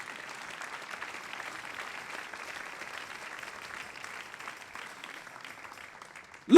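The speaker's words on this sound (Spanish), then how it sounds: "Dele un aplauso al Señor en esta mañana." Church congregation applauding during a morning service, a steady moderate clapping that runs throughout before a sudden loud burst at the very end.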